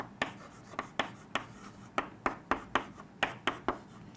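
Strokes of a marker or chalk on a classroom board while chemistry structures are drawn out, a steady run of short scratchy taps and squeaks repeating roughly every half second, close and alone.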